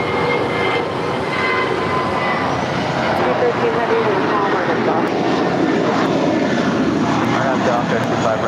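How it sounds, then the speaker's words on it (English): A Korean Air Cargo Boeing 747-400ER's jet engines spool up at an airport, giving a loud, continuous broadband roar that holds steady throughout, heard from outdoors with a voice faintly present underneath. "It's a 747-400ER lighting up."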